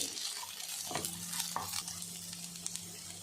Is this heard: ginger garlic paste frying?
yes